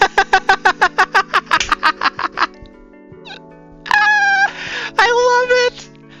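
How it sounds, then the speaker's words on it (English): In the video game Coffee Talk, a cat gives two drawn-out, fairly loud meows after a run of rapid rhythmic blips, set over a soft, steady musical backdrop. "Seems like there's a cat."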